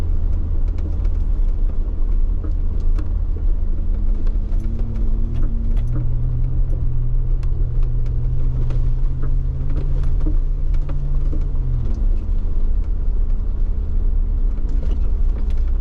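A Jeep crawls along a rough off-road trail at Hot Springs Off-Road Park, its engine holding a steady loud low rumble with a rising drone partway through and faint rattles over the top.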